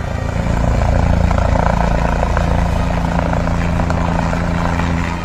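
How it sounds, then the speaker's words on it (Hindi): A helicopter arriving to pick up a politician at a rally site runs loud and steady throughout, its heavy low rotor thrum and engine whine filling the whole stretch without pause. "आज उन्हें दूसरी सभा स्थल पर जाना था और हेलीकॉप्टर उन्हें लेने आया था।"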